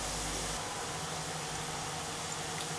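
Coconut-milk murukku deep-frying in hot oil gives a steady, dense hiss of bubbling that stays constant and fairly close throughout, with no voices.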